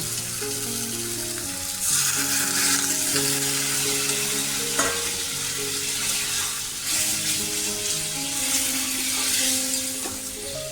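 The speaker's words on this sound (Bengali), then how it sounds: "তো সামান্য পরিমাণে একটু জল দিয়ে দিলাম" Water poured into fried spices in a hot pan while cooking egg, soybean and potato biryani, raising a loud, steady sizzle and frying hiss that carries on through the whole stretch, with stirring noises on top.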